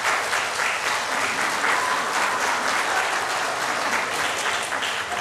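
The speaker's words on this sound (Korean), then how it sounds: "큰 박수로." A church congregation at a Sunday service applauds in a steady, even wash of clapping from many hands, moderately distant and unbroken.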